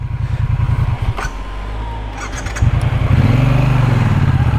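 A 2024 Triumph Bonneville T120 motorcycle rumbles along slowly at low revs, its loud, close, lumpy engine beat pulsing steadily, dipping briefly before picking up again.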